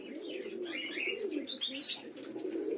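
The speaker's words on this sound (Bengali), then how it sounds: "এটা কাবজি পায়রা।" Kabji pigeons in a loft give soft, low cooing with a few brighter chirps and wing rustles, near and fairly quiet, continuous with no voices.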